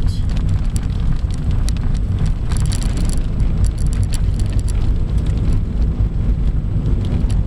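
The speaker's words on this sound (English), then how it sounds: "It's starting to rain a little bit." Rain beginning to fall on a car driving around Moberly, Missouri: a loud, constant road and engine rumble with scattered patters and ticks of drops on top, no voices.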